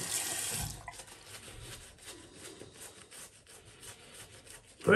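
Tap water runs during a shave, first loud and steady as it splashes, then softer and uneven with faint rubbing and trickling, ending in a sudden louder gush.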